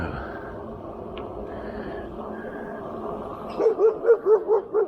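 A dog barks from behind a fence beside the road during an electric bike ride. Six or so loud, evenly spaced barks come in quick succession over steady outdoor background noise.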